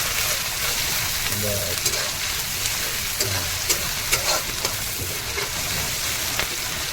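Garlic and green chili sizzle steadily in hot oil for a Bengali dish, with intermittent scraping and stirring strokes audible through the continuous frying hiss, close and moderately loud.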